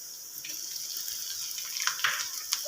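Garlic ginger paste sizzles in hot oil in a kadai. The hiss is soft and steady, with faint crackling pops near the end.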